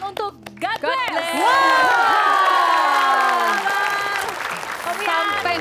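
Studio audience applauding an Indonesian rock band on a TV show. Clapping and cheering swell and hold, topped by a loud, sustained shouting voice.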